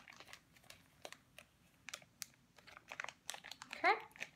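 Plastic bag crinkling and crunching as the air is squeezed out, a close run of sharp rustles in uneven bursts, with a voice speaking faintly in the background.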